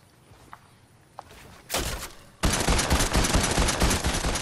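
Shooting in the battle royale game Fortnite, a couple of faint ticks, then a loud burst and a sustained dense volley of rapid shots filling the second half.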